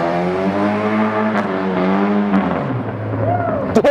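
A video-game car drifting through Pike Place Market, its engine droning in a steady harmonic tone that dips and shifts with a brief rising squeal near the end, heard under excited talk.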